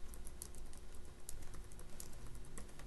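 Code being typed on a computer keyboard, a steady run of quick, light key clicks at close range with no talking.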